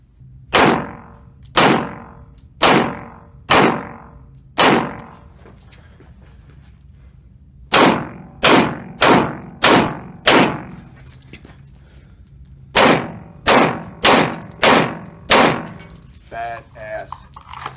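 Gunshots ring out during a shooting accuracy drill, with sharp, loud reports fired in quick groups of four or five at a steady rhythm, separated by short pauses.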